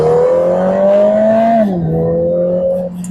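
A Lotus four-cylinder car drops a couple of gears and accelerates, its engine rising in pitch to a loud, close rev, briefly shifting, then pulling on steadily at a slightly lower tone.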